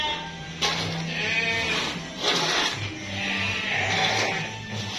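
Awassi and Dorper sheep bleat in a pen, with several overlapping calls rising and falling over a steady low barn hum, fairly close and moderately loud.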